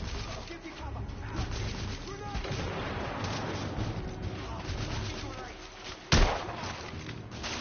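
Video game battle in a courtyard against rebels, with continuous booming gunfire and artillery-like blasts, capped by a sharp, loud grenade explosion near the end; a voice is heard shouting amid the combat.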